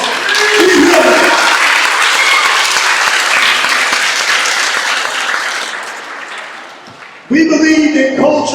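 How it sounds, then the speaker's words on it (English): Audience applause fills a school Black History program keynote, loud sustained clapping from a crowd that gradually fades, then a voice speaking over a renewed burst near the end. "She may not give her a round of applause."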